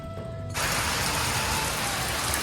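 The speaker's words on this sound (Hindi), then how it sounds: "हमारे गांव में देखो कितना मस्त बारिश होती है, एकदम से रिमझिम बारिश होती है।" Steady rain falls at a village house, starting abruptly as a dense, even hiss that holds constant and fairly loud with no voices over it.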